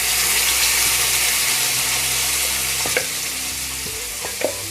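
Tomato and onion puree hits hot spices in a pan, a loud, continuous close sizzle with a few stirring scrapes near the end.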